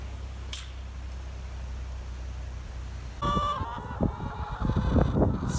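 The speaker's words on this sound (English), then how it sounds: "So a cacophony of chickens" Quiet at first, then a crowd of chickens starts clucking and squawking nearby, growing louder and busier toward the end.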